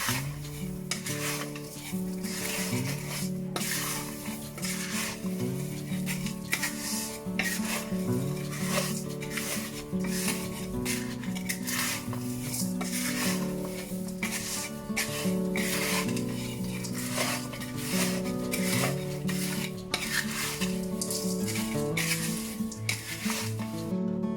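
A spatula scrapes and stirs Thai chili paste with pork cracklings and ground chili in a pan over medium heat, a steady close-up rasp and clatter that runs without pause, with no talking.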